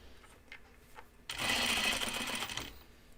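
A sewing machine stitches a seam on a 1940s New England dress in one steady, close whirring run of about a second and a half, preceded by a few quiet taps.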